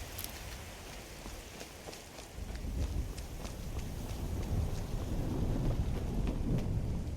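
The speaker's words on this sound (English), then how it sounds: "By the way, this rain has lasted for 14 days." Rain falls steadily in the video game Skyrim, with a low rumble of thunder swelling partway through and persisting under the hiss of the downpour.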